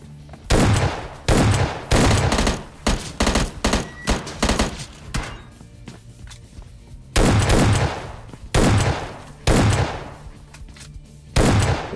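Repeated shotgun blasts in the mobile battle royale game PUBG Lite, loud close bursts in quick irregular clusters with short gaps and a pause midway, no talk.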